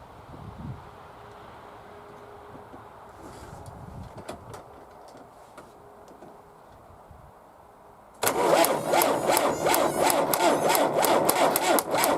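An MTZ-82 tractor starter grinds over the engine, a low, uneven churning that turns into a loud, fast, rapid-pulsing crank partway through and keeps going to the end, heard close up.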